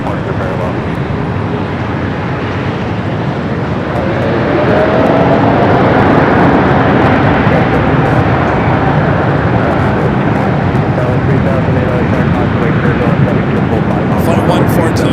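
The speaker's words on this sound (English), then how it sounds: "Flight 142 heading out to London, Heathrow, the 787-9 and Dreamliner rolling down to 24 left" A Virgin Atlantic Boeing 787-9 Dreamliner, bound for London Heathrow, begins its takeoff roll down runway 24 left at LAX at night, its engine roar building partway through and holding loud and broad, with a voice talking over it.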